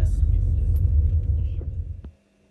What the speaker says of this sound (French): je dépose la voiture au garage